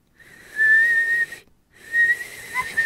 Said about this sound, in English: I'm going to whistle across the parking lot